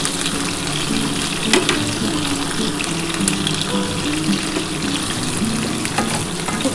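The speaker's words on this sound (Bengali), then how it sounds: "তা খুব ভালো করে আমি ভেজে নিই, একটু লাল লাল করে ভাজা হলে" Pointed gourd and potato pieces fry in oil in a pan, giving a steady close sizzle broken by occasional scrapes and clinks as they are stirred, with no voices.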